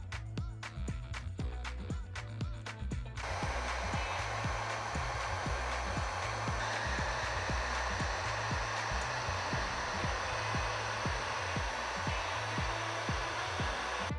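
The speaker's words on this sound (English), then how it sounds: "Now we can go ahead and put the heat shrink." A heat gun blows steadily for the whole stretch, a loud, even whoosh with a rhythmic mechanical pulsing underneath, used to shrink heat-shrink tubing on a 3-inch freestyle FPV drone build.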